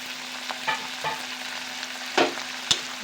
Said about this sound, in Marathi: छान असं परतून घेऊया। त्याच्यामध्ये हा टोमॅटो टाकूया